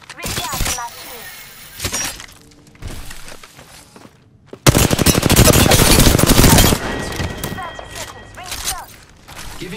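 Video game gunfire in a battle royale shooter comes in bursts, with rapid automatic fire, sharp shots and a long loud volley in the middle, all mixed with game effects.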